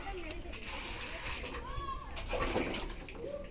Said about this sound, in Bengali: এই যে আম ধোয়া হয়ে গেছে